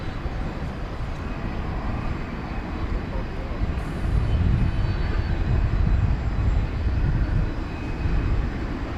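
An Airbus A350-900 at night at DFW Airport gives a continuous broad engine roar that grows louder through the middle and stays strong, with a voice talking over it at times.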